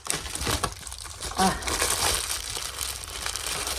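A plastic shipping package is torn open by hand, with close crinkling and rustling and a brief sharper rip partway through, over faint background voice.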